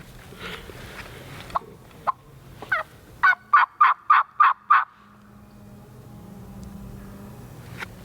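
An Eastern wild turkey in the Tennessee woods on a morning hunt lets out a quick rattling gobble of about six rapid pulses, clear and moderately near against quiet surroundings, preceded by a few scattered softer calls.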